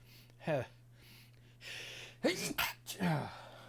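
A single sharp sneeze bursts out close to the microphone during a tabletop card game podcast about Magic: The Gathering, with people talking around it.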